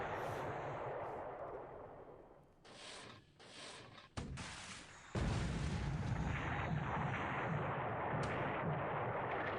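Naval gunfire and shell impacts from the War in the Pacific strategy game, 5-inch and 6-inch shells between a cruiser and Japanese destroyers, with low rumbling booms and sharp bursts that build to a steady heavy roar.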